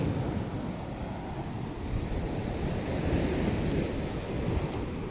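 Sea water washes against a rocky shore with a continuous, broad rush of surf, mixed with gusts of wind buffeting the microphone, loud and close throughout.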